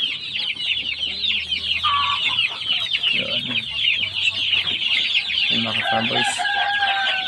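A flock of assorted heritage chickens and chicks, Bantams among them, on a farm, with steady clucking, chirping and a rooster crowing throughout, while someone talks briefly over the birds.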